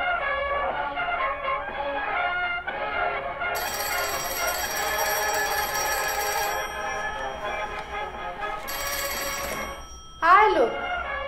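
A telephone rings indoors with bright, repeated electronic bursts, one long ring followed by a shorter one. Murmured voices and background sound run beneath it.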